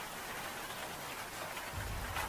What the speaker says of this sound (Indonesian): Hujan saat itu turun tidak deras memang, tetapi beberapa kali hujan bersambutan dengan angin